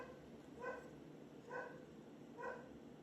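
Three separate barks from a dog, spaced evenly about a second apart, sounding somewhat distant and faint against a quiet background hiss.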